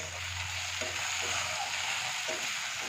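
Chili, cumin and coriander powder fry in a pan of hot oil for a Bengali fish dish, a steady close sizzle with a few soft scrapes of stirring and no talk.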